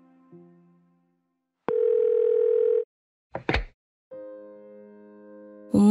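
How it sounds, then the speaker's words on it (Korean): Telephone dial tone as a call goes out to a mother, sounding as a steady electronic tone in bursts with clicks and knocks between, and no voices. "엄마에게 전화를 걸었다"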